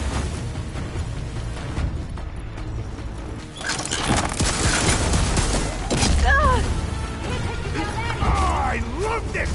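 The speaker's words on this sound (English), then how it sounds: "I love this cannon!" A cannon fires in the video game Horizon Forbidden West amid heavy battle noise, with bursts of booms, crashes and mechanical clatter running under shouting voices.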